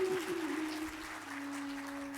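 Audience applause at a Hindi devotional discourse, a steady wash of clapping from a crowd that holds at an even level, with a sustained tonal hum running beneath it.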